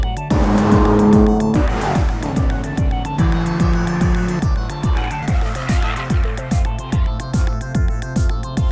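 A BMW M4 sports car engine revs hard on a race track through repeated gear shifts, rising and dropping in pitch, with a rhythmic pulsing drone close by and loud.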